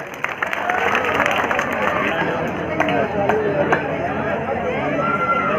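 Loud, continuous crowd clapping and cheering fills a bodybuilding show hall for several seconds, a dense ongoing roar of applause mixed with crowd chatter.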